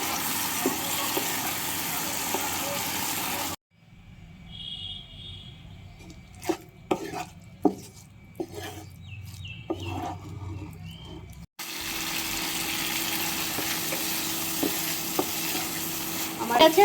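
Shrimp frying in a thick spice masala for Bengali chingri bhuna, loud steady sizzling at the start and end with a quieter stretch in between of scattered stirring clinks and scrapes in the pan.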